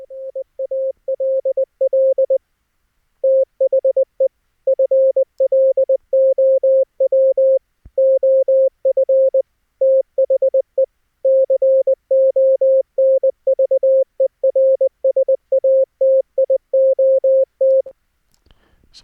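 Morse code CW tones keyed in steady bursts of dits and dahs, streamed over an online net through the Opus codec at 64 kbit/s from a Raspberry Pi setup, a clean single pitch running almost continuously with short gaps.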